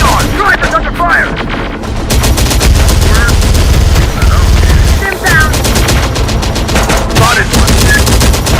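Dense gunfire in the video game Terminator Dark Fate Defiance, rapid machine-gun bursts and heavy shots layered over a constant loud battle din, with short radio-style voice chatter cutting in now and then.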